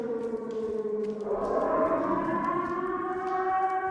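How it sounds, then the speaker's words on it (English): Loud civil-defense-style siren wailing in the Silent Hill 2 Remake video game, a sustained rising tone that swells after the first second and holds steady, heard alone without talk. "And that siren sure is loud."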